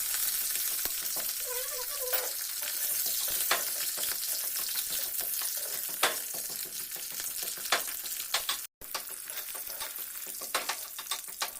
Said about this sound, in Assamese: মাছখিনি ভালকৈ ফ্ৰাই কৰি লৈছোঁ